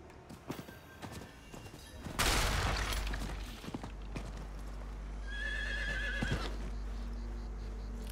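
Horse in the Diablo IV video game, hooves clip-clopping, then a loud crash near the middle and a bright whinnying neigh toward the end, over a low game ambience, with no talking.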